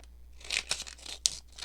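Scissors cutting folded paper in half for a junk journal pocket, a series of close, crisp snips in an uneven rhythm over a quiet background.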